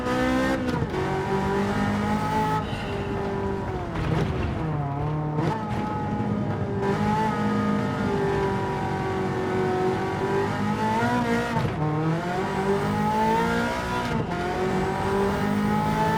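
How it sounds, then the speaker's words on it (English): Ferrari F40 engine roaring continuously on the Nürburgring in a racing video game, with steady revving that rises and drops through gear changes, loud and close throughout with no talking. "this Ferrari F40 is pretty great"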